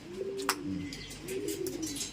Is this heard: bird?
yes